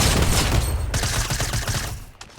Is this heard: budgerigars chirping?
no